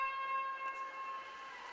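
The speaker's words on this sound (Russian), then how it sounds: "ну и прозвучала сирена" A siren sounds at a futsal match between Brigantina-2 of Astana and Khumo-2 of Tashkent, a steady, fairly faint tone that holds without a break for the whole moment.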